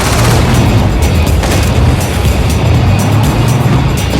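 A tank blows up during a Battlefield 2142 match, heard as a loud, continuous roaring rumble of blast and engine noise that stays dense and heavy throughout.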